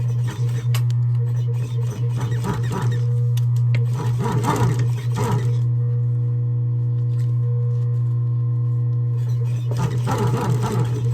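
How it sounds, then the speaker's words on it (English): A sewing machine stitches piping on a Louis Vuitton bag during a repair, with a steady motor hum and bursts of rapid stitching separated by brief pauses. "Now we stitch it about half an inch from the bottom"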